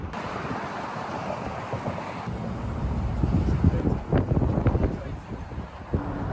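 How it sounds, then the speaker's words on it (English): Strong wind roars and buffets the microphone at the Golden Gate Bridge, with people talking and cheering over the gusty rumble. "It's windy, huh?"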